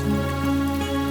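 Steady rain falls throughout at a fairly loud level, a continuous wash of drops with no voices over it, in a Kannada feature film.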